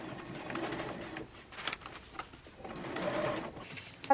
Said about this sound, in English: lift up the presser foot and turn the fabric and continue on sewing.